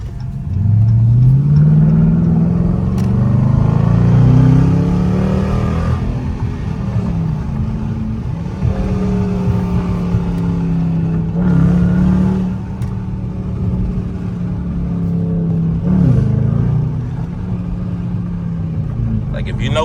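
A Dodge Charger R/T engine revs and pulls hard on the road, a loud steady rumble rising and falling through several accelerations and gear changes, heard from inside the car.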